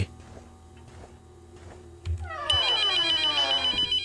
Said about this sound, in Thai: แล้วก็มีมือถือดังครับ